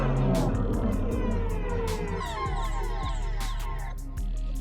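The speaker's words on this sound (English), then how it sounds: "that sound is a one-shot from the one-shot section in the Elysium sound suite." A one-shot sample from the Elysium sound suite, run through a Portal effect rack and pitched down an octave, plays as a dense, swirling texture with sweeping glides and repeated sharp hits over a heavy low end, loud and continuous.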